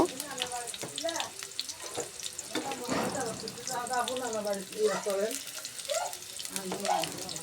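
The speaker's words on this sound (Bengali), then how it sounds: "এখন পেঁয়াজ রসুন বাটা কাঁচামরিচ দিয়ে কিছুক্ষণ পাঁচ থেকে ছয় মিনিট বেজে নেব" Onion-garlic paste and green chillies fry in hot oil in a pot, a soft, steady sizzle with stirring noises, while a voice is heard over it much of the time.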